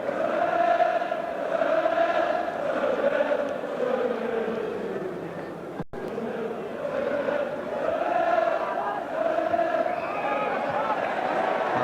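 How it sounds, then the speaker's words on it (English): A football crowd at Swansea City versus Manchester United chants the 2-0 score in long, swelling sung phrases from a distant mass of voices, heard steadily throughout. "And the crowd telling us the score, 2-0"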